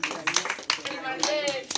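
Hands clapping at a 10th class school farewell gathering, several sharp, separate claps in an uneven rhythm, close by, with children's voices talking around them.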